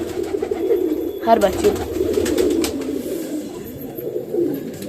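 Banarasi pigeons coo in a loft, a low steady burbling that carries on for several seconds beneath a voice talking over it.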